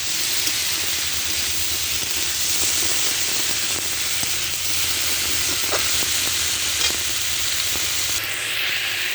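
A fish curry with potato and pointed gourd sizzles and hisses steadily in a pan while being stirred, with occasional soft scraping, a continuous close frying sound with no talking.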